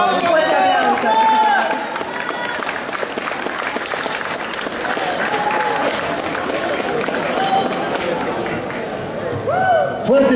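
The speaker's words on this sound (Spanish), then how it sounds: "Fuertes aplausos para el ganador del concurso," Loud, sustained applause and cheering from a crowd at a cosplay contest as the winner is announced, clapping filling the whole stretch with excited voices shouting over it.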